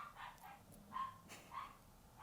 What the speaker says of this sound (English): So our dogs are going crazy downstairs.